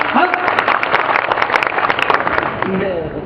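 Audience applause at a poetry gathering (kavi sammelan) in Depalpur, Madhya Pradesh: a dense, steady wash of many hands clapping continuously throughout, heard close and loud with a voice speaking over it.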